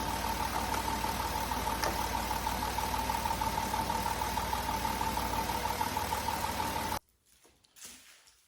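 A Chrysler Town & Country minivan engine idles at close range, with a steady hum and a constant whine. It cuts off abruptly near the end, leaving only faint handling noise.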